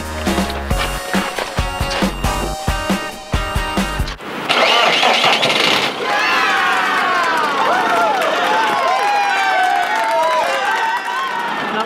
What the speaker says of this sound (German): Er springt an.